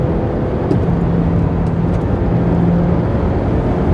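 Car engine droning loudly and steadily while overtaking other cars on a road, a continuous low rumble with road and wind noise, close and unbroken.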